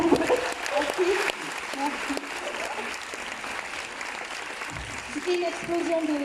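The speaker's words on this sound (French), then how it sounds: "Et encore un tonnerre d'applaudissements, s'il vous plaît." Audience applause at a Q&A session following a documentary preview screening, a steady dense wash of clapping running throughout with some voices mixed in underneath.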